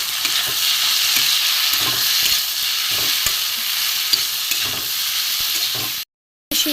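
A mustard and poppy seed paste fries in a pan, giving a constant close sizzle broken by regular scraping stirs, then a sudden brief silence near the end.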